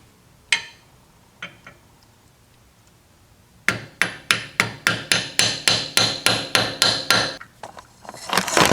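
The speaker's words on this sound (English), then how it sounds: "Using my brass hammer." A brass hammer taps metal parts while a Snap-on SL710 half-inch ratchet is rebuilt: a few isolated knocks, then a quick rhythmic run of about a dozen sharp, close strikes.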